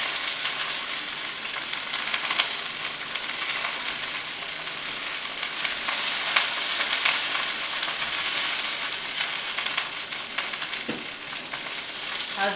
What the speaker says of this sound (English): We like that sizzle.